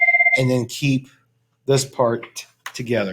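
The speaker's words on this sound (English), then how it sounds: "That's the phone." A telephone rings twice in a quick pair of tones at the start, clear and fairly loud, before a teacher in a classroom explaining quadratic formula answers talks over the rest.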